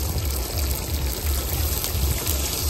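Water pours steadily into a cooking pot at an outdoor family picnic, a close, continuous rushing splash with a low gurgle underneath and no talk.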